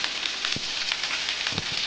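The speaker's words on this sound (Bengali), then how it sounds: "তেলটা আমার গরম হয়ে গেছে, এবার ওর মধ্যে আমি জিরেটা ফোড়ন দিয়ে দিলাম।" Cumin seeds sizzle steadily in hot oil in a pan, a continuous close crackling hiss with a few soft pops and no talking.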